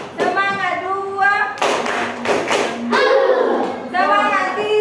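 Classroom of children chanting a rhythmic Indonesian clapping cheer, voices rising and falling in a sing-song pattern broken by sharp bursts of group clapping between lines, loud and close.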